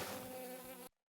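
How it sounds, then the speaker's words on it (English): An angry bee in a video game buzzes loudly and steadily for about a second, then cuts off abruptly into silence. "Oh my god, why is the bee angry?"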